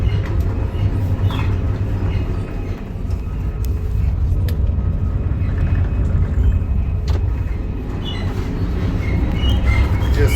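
A passenger train crossing from the former West into East Germany, heard from the front car just behind the engine: a steady loud rumble of wheels on rails with faint clicks and squeaks, no talk.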